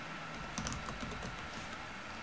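Quiet, rapid keystrokes on a computer keyboard as a password is entered, a short run of soft clicks with no talking.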